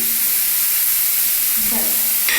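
Onions, potatoes, ginger and garlic fry in a pan for a Bengali fish curry, giving a steady close hiss and sizzle throughout with a short clatter near the end.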